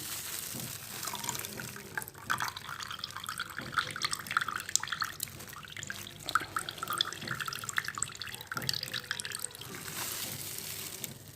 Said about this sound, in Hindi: पानी को अच्छी तरह से निथारना है।